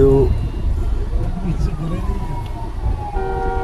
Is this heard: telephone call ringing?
no